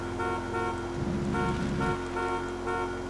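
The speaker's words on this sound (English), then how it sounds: "Honk, honk, honk" Car horns honk repeatedly in Grand Theft Auto 5 Online, a steady stream of toots with a denser, louder burst in the middle, over vehicle and engine noise.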